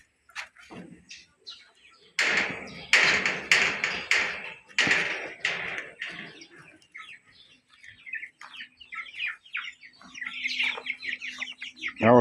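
Chickens cluck and cheep in quick, busy bursts close by, with sharp tapping and pecking sounds mixed in, loud then gradually quieter.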